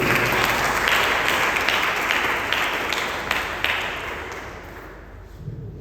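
Church congregation during a communion service bursting into applause, loud dense clapping with a few sharp individual claps standing out, gradually thinning and fading over several seconds.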